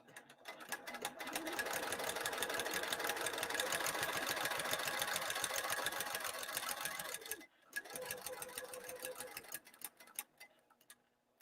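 A sewing machine runs steadily along the edge of a bag lining, a fast even stitching rattle lasting several seconds, stopping briefly, then resuming for a shorter run before halting.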